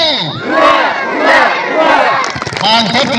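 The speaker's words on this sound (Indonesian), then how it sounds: "jenengan Bapak Ibu jawab 3 kali huya ditutup tepuk tangan" A crowd of people at a tree-planting event near Mount Semeru, Ranu Pani, shouts a loud chant together in several bursts, near and energetic, with voices overlapping.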